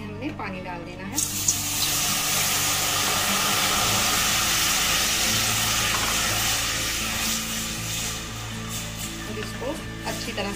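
Water poured from a tap or vessel into a cooking pot while making Himachali mahani, a tangy desi dish with turmeric, a loud, steady rushing splash that starts abruptly and runs for about ten seconds before tapering off.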